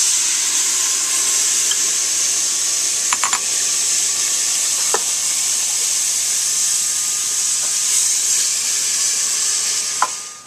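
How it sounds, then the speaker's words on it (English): Chicken broth and white wine with bloomed saffron threads pour into a pressure cooker as a steady, close hiss, with a few faint clinks along the way. "we're going to add 2 cups of chicken broth, and we've taken a teaspoon of saffron threads and let them bloom in about a half a cup of white"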